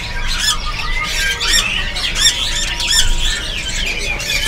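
White-rumped shamas and other birds chirp and squawk in bright, rapid bursts close by at Pramuka bird market, layered over a steady low rumble of background noise.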